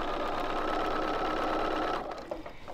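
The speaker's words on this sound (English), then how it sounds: "And so I'm just going to sew them." A sewing machine stitches bias quilt binding strips in a steady, close, continuous whir that slows and stops near the end, with no one talking.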